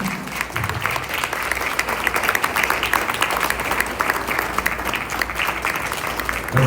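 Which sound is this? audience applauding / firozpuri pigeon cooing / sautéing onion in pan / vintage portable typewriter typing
audience applauding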